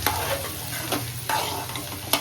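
Rava upma sautés in a pan with a continuous sizzle, broken by about five sharp spatula scrapes at irregular intervals, close up and without talk.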